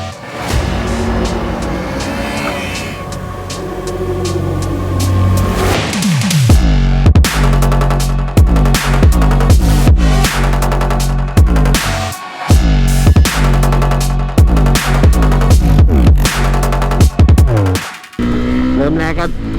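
A Suzuki Gixxer SF motorcycle engine revs loudly and continuously as it accelerates through fifth and sixth gear, its pitch climbing repeatedly with brief drops at each shift.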